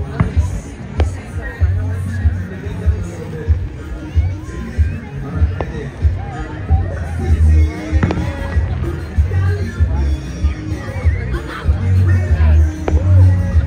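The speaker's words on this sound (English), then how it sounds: "you might even get to see some pre-fireworks fireworks this direction" Early fireworks pop and crackle at a distance before a 4th of July show in Highland Park, New York, with scattered bursts sounding over the murmur of a crowd.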